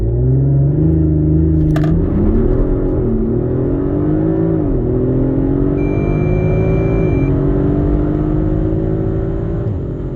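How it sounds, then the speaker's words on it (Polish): A 2023 Audi RS4 Competition accelerating hard from standstill to 100 km/h, its engine roaring loud and close with rising pitch broken by quick gear changes. "Niestety tylko przyspieszenie do setki."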